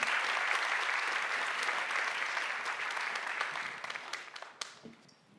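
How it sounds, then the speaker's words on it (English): An audience at a Berlin science slam claps warmly for an arriving speaker, a full, steady applause that thins out toward the end into a few scattered last claps and quiet. "Please, with a warm applause, Ramprasad Misra."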